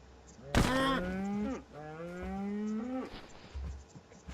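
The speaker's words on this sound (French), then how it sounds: "Puis il y a là, toi, la petite vache." A cow mooing in the Minecraft video game, two long, drawn-out lowing calls close and clear, with a brief gap between them and no talk over them.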